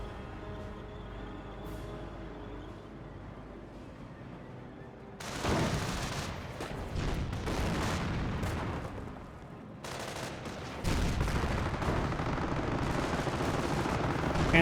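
Anti-tank gun firing during a Company of Heroes 1 match, shots against a Panther tank: heavy gunfire and explosive bursts erupt after a quieter stretch, dense and loud, with a second barrage later.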